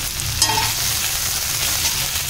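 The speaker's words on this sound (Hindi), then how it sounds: "आलू, जिसमें मैंने ये देसी घी में जीरा डाल दिया, थोड़ी सी हरी मिर्च, थोड़ी अदरक और थोड़ा हरा धनिया। पहले इसे मैं भून लेंगे।" Potatoes frying in desi ghee with cumin, green chilli, ginger and coriander, giving a steady close sizzle with a brief stir near the start.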